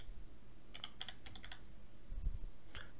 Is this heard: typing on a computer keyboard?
yes